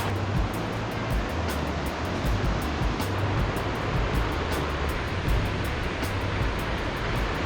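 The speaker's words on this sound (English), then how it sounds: "I see the waterfall." A waterfall on Mount Hood in Oregon rushes in a steady, dense roar of broadband noise, constant and fairly loud throughout with no talk.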